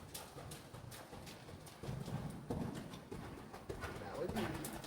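Horse hooves cantering in a riding lesson arena, giving a soft, rhythmic clip-clop of repeated footfalls at moderate distance, with bird calls in the background.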